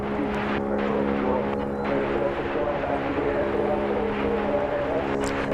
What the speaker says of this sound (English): I hear a propeller plane.